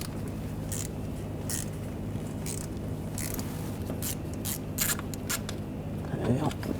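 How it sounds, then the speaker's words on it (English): A ratchet with a T30 socket turns a water pump bolt on a 2009-2017 Volkswagen Tiguan engine, giving faint, irregular clicks and mechanical scrapes over a steady background hum. "use the same T30 socket"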